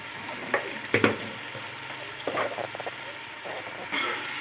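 Chilli powder being stirred into hot oil in a pan, a continuous sizzle with repeated scraping strokes of a spoon at an irregular rhythm, close and fairly loud.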